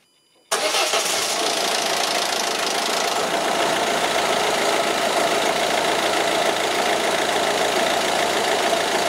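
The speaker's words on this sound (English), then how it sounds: "Next is to connect the injectors and to actually start it up" A Peugeot/Citroën 1.6 HDi diesel fires up after a turbo replacement, the start hitting loudly at once and settling into a steady, close, even idle clatter that holds for the rest, with no talk.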